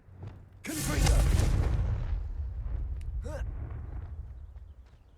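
A Confringo fire spell blast in Hogwarts Legacy erupts as a sudden loud, deep boom with a fiery roar that decays over several seconds, preceded by a shouted incantation and followed by brief voiced effort sounds.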